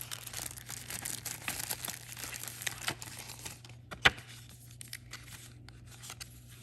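Hollyland Lark M2 wireless microphone packaging being unfolded, with soft continuous crinkling and rustling of card and plastic close by and one sharp snap partway through.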